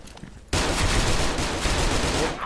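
Gunfire from the shooter game Special Force 2, with an M870 shotgun in play: after a brief quiet start, a loud, dense burst of rapid shots fills the rest of the short stretch without pause.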